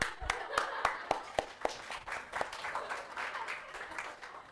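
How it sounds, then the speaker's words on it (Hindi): Sparse claps ring out in a classroom-style setting during a management lesson, a few sharp hand claps at first then a soft scattered patter of applause fading, fairly faint. "तालियां।"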